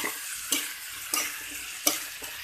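Sautéed chayote being stirred in a pan, with a spoon scraping and clattering three times over a steady sizzle of frying.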